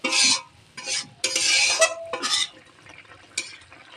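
Spiced green papaya kofta curry is stirred in a pan, several loud scraping and sloshing strokes in separate bursts with quieter gaps and a single clink near the end, close up, with no speech.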